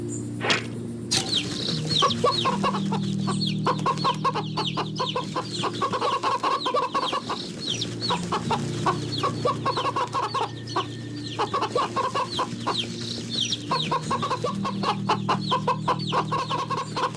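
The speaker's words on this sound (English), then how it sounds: "And then we can get eggs from these chickens" Flock of chickens in the video game Wytchwood, clucking continuously with overlapping rapid calls above a low steady background hum, fairly close and busy throughout, no voices.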